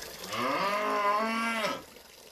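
A cow on a Korean farm lets out one long, loud moo that holds steady and then drops off, with quiet surroundings before and after.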